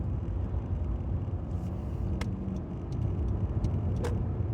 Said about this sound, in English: Oh, fuck, there's a car.